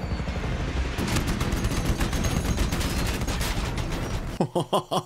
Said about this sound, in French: Méga gun. Ah ouais, ça c'est de la mitrailleuse.